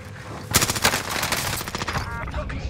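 Automatic gunfire in Warzone, a burst of rapid shots from an OTs 9 setup starting after a quiet half second and continuing as a dense rattling spray through the rest, fairly close and loud.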